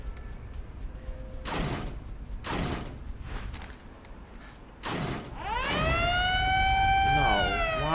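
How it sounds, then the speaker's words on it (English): A wailing siren in the video game Resident Evil Revelations 2 rises and sweeps up and down toward the end, following a stretch of clanks and mechanical noises under steady background noise. "why is that a siren going off?"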